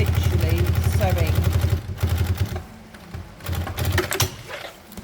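A sewing machine stitches a seam on test fabric in rapid, loud bursts of needle clatter that pause briefly and resume, close up.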